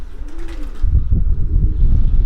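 Young racing pigeons coo softly in a loft, a low drawn-out call rising early on, then heavier close rumbling and fluttering sounds fill the rest.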